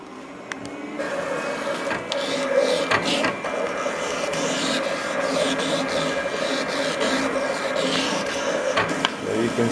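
A cutting machine at a Central Oregon Maker Faire workshop runs a file, cutting a mouse shape: steady mechanical whirring with repeated soft scraping and tapping, fairly quiet and continuous, with no talking.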